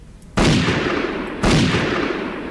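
Two loud, booming gunshots about a second apart in the video game Übersoldier 2, each trailing off into a long echoing rumble.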